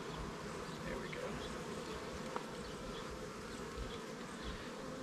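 Honey bees from an opened beehive give a steady, dense buzzing drone throughout, with a few faint individual bees passing nearer to the microphone.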